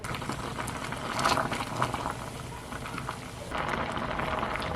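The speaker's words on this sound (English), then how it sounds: "once this comes to a boil, we're going to boil it for about 5 minutes" Sorrel boiling in a pot of water with spices for a Trinidad-style chutney, a steady close bubbling and hissing roil that swells slightly midway.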